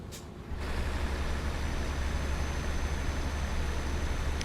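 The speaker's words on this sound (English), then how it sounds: "the one bonus with this view that makes it even better for me is you get to hear the sound of the engine" A truck engine in Euro Truck Simulator 2 drones steadily and close, a constant low rumble with a broad hiss over it that starts after a brief quieter moment and runs unchanged to the end.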